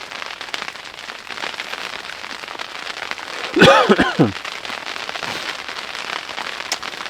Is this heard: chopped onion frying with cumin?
no